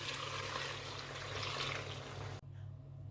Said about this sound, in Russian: В кастрюлю процеживаю рыбный бульон.